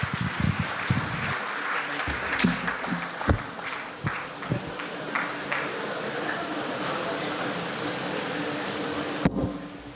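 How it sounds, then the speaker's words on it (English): A thunderous round of applause rises for the chief guest at an engineering award ceremony, broad steady clapping filling the hall for about nine seconds before cutting off abruptly near the end. "please join us in welcoming with a thunderous round of applause our chief guest, Sri Shyam Srinivasan"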